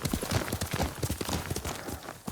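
A horse gallops in the video game Ghost of Tsushima, its hooves pounding in a fast, steady rhythm, loud and close over a dense wash of wind and movement noise.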